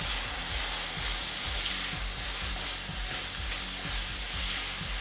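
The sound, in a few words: stirring garlic and peppers in a frying pan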